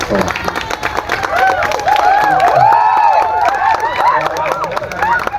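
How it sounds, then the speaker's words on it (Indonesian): A crowd applauds and cheers at an ogoh-ogoh judging event in the Gianyar town square in Bali. Loud, dense clapping mixes with voices and whistle-like calls throughout. "Tepuk tangan dulu."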